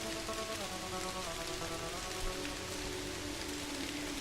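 Steady rain falls in the adventure video game Kathy Rain, a loud, even hiss of drops that continues unbroken throughout, with faint musical tones beneath it.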